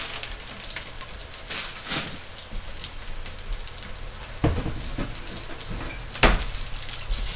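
Garlic and chilies frying in hot oil for Bicol Express give a steady close crackling sizzle with scattered louder pops and spatters.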